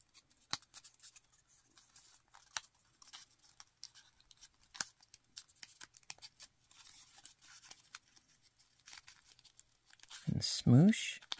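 Paper being folded and creased for an origami lily or iris gives faint, sparse crinkles and soft taps, then a louder rustling burst near the end.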